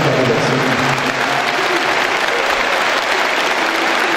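Audience at a live stage show with LED screen applauds continuously, a thick, even roar of many hands clapping for about four seconds, loud and close with no pause.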